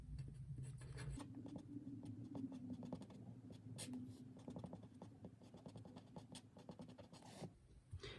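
A pen or pencil scratches across paper while math is written out by hand, a soft continuous scribbling close up and fairly quiet, with brief pauses between strokes.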